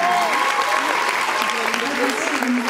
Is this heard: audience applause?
yes